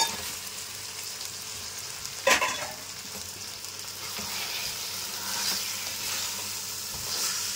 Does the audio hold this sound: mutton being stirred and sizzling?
yes